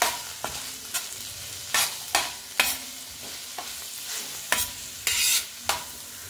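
Coarse salt, asafoetida and coriander being sautéed in a kadhai for poha: a continuous sizzle broken by about ten sharp, close scrapes and clatters of a spoon stirring, no voices.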